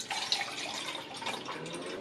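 Water poured from a measuring cup into a blender for homemade vanilla almond milk, a steady close splashing trickle lasting throughout with no talk.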